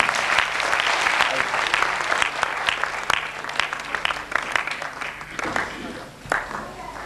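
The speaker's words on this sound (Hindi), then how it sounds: "एक बार फिर तालियों से स्वागत करें" A crowd applauds at an Urdu poetry mushaira, a thick wash of clapping that starts loud and gradually thins and fades, with a voice faintly under it.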